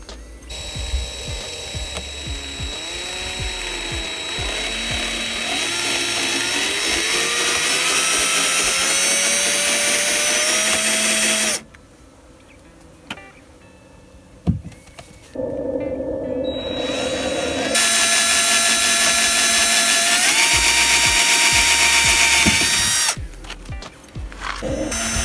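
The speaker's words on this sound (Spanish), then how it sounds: "y ya hay que taladrar el marco" A power drill bores into a wooden door frame while fitting a security deadbolt, its loud whine rising and falling in pitch under load, stopping for a short pause with a few knocks, then starting again.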